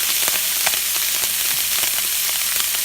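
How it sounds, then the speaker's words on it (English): Turkey, celery and mushrooms sauté in a hot pan, giving a loud, steady sizzle and crackle that fills the sound, with a few light scrapes and no talking. "Get that sauteing up a little bit."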